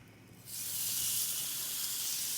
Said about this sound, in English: we're going to go ahead and get this on the grill and sear it